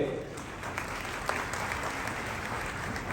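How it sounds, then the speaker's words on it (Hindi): An audience at a Mahesh Navami celebration applauds the organizers, a broad, continuous patter of many clapping hands, fairly distant and steady, with faint crowd noise beneath. "आप सभी विशेष रूप से आयोजक बड़ी जोरदार तालियों के हकदार हैं।"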